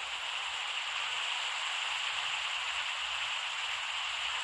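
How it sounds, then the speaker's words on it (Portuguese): Heavy rain in a video game comes through as a dense, steady hiss, loud and constant throughout with no breaks and no voices. "A chuva tá forte demais"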